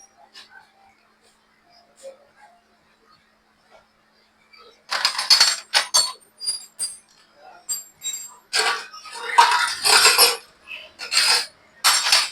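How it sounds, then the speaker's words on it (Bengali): Metal tool clinks and ratchet-like clatter while a nut is tightened on a Bajaj CT 100 motorcycle engine, coming after a few seconds of near silence as a run of close, irregular bursts. "আমরা এখন লাটটা টাইট করে দিচ্ছি"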